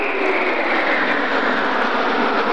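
Five Mirage III jet aircraft pass in formation during an air show at an air base, a loud, steady jet roar filling the whole moment without voices.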